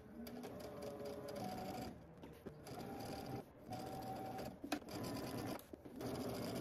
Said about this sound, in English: I'm gonna back stitch to start.